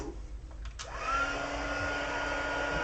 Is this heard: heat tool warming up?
yes